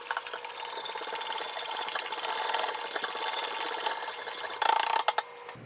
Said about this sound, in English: And then you just whisk it together.